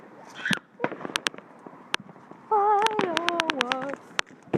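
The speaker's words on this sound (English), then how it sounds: "Look at the fireworks there." Fireworks go off outdoors in a run of sharp bangs and crackles, some far and some near, with a loud dense burst in the middle while people talk over them.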